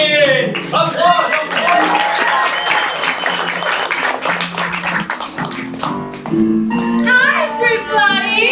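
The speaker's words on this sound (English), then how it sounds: "Applause!" Loud applause from the audience at a school drama department musical production rolls on under music and voices for several seconds, and cheers and singing rise near the end.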